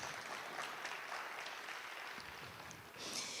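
An audience claps for a speaker at a 2020 Bitcoin conference talk on decentralized finance, with a steady, fairly faint wash of applause lasting the whole time and swelling slightly near the end.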